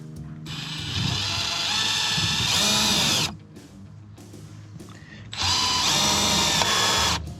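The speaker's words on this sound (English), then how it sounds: "Let's hope the carpet doesn't wrap around the drill." A power drill whines loudly in two long bursts, pausing briefly between them, with a rough grinding edge as it bores through a carpeted Renault Trafic van panel.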